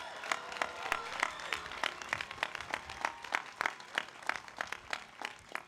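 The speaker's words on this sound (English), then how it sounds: "Let's give them a round of applause." Scattered audience clapping for a 12th grade graduating class at a graduation ceremony, distinct individual claps in a loose rhythm, faint and somewhat distant.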